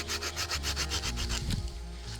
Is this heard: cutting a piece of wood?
yes